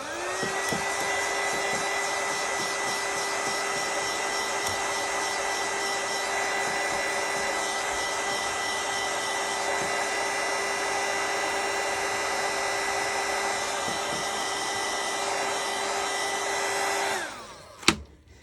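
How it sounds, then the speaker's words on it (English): A hair dryer blows steadily on paper journal pages for a long stretch, a loud, even motor whir with faint handling clicks, then winds down and switches off. "I'm going to have to just do a little bit of drying."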